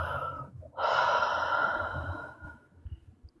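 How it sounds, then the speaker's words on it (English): A person draws in a big deep breath and lets it out in a long, audible sigh, close and breathy, ending with a few softer exhaled puffs; no talking. "give me a really big deep breath"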